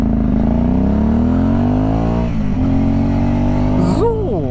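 An Aprilia Dorsoduro motorcycle engine runs loud and close, holding a steady rumbling tone with a slowly rising pitch, then gives a quick rev that swells and drops near the end.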